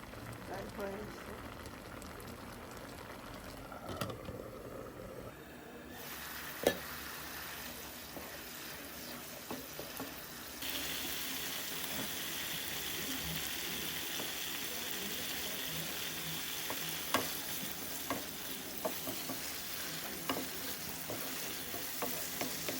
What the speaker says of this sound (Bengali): আজকে ভাবলাম যে একটু টমেটো দিয়ে ভুনা ভুনা করি, ঝোল ছাড়া, কড়া করে ভেজে